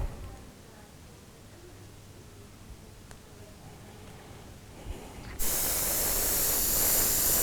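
Airbrush spraying black Tamiya paint onto an Imperial Knight model, starting abruptly as a steady close hiss after quiet room tone and continuing to the end.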